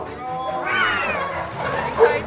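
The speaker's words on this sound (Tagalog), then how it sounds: "Dami kasi tumatahol." Excited XL American Bully dogs whining and yipping at close range, high strained cries rising and falling over about two seconds, with voices mixed in.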